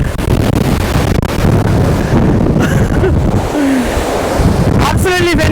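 Heavy wind battering the microphone at an outdoor viewpoint in Malico, Pangasinan, a loud continuous roar throughout with brief faint tonal sounds near the end.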